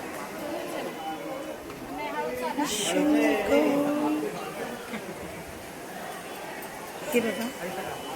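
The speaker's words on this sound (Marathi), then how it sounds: "पायऱ्यांवर आम्ही चालत आहोत खूप गर्दी आहे खूप म्हणजे खूप अफाट गर्दी आहे" A large festival crowd of pilgrims climbs temple steps at Tulja Bhavani temple, a steady babble of many voices and shuffling movement all around, swelling slightly midway with a brief louder knock near the end.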